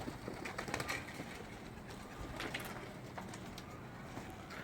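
Soft cooing of Kelebek pigeons murmurs faintly amid a noisy outdoor background in İzmir, with no clear voices.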